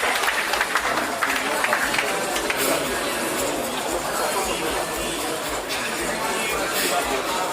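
Audience applause at an official commissioning ceremony, a broad sustained wash of clapping from a crowd, heard at moderate distance with a voice and crowd murmur underneath.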